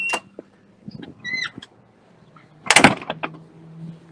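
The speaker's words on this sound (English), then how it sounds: "I'm gonna go out this door" A door opens onto an outdoor courtyard on a college campus: a few short clicks and latch rattles, then a louder clunk and scrape as it swings, fairly close, with no talk.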